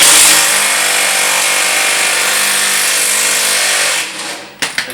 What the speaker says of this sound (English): I'm actually just going to break these two bolts off instead of fighting with them